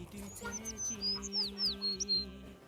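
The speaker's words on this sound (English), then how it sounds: "what sweet sound of the birds early morning" Several birds chirp and whistle in short, bright calls during a cool early morning in Sipsu, Samtse, heard close and clear over a low, steady hum from a nearby engine or generator.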